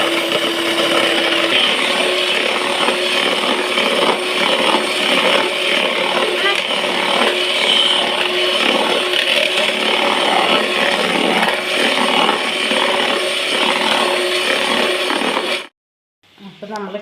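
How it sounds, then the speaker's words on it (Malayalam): Electric hand beater whipping cream for a cake, a steady loud whirring drone running continuously for about fifteen seconds before cutting off abruptly near the end. "അപ്പോൾ ഇതൊരു 3-4 മിനിറ്റ് എടുത്തിട്ട് നന്നായിട്ട് നമുക്ക് ബീറ്റ് ചെയ്ത് വരാം."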